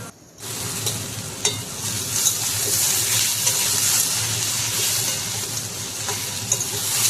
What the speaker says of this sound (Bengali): এইভাবেই চিচিঙা আর আলু পেঁয়াজ একসাথে আস্তে আস্তে ভেজে নিতে হবে।